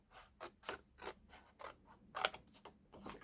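Scissors snipping through card for a pop-up gingerbread house card, a series of short close crisp cuts in uneven rhythm with one sharper louder snip near the end.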